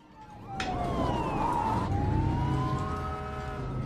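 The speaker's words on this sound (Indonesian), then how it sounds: "Mobil-mobil polisi, damkar, dan ambulans berlalu lalang." Police cars, fire engines and ambulances pass with wailing sirens, pitch sweeping up and down as they go by, moderately loud over steady traffic rumble.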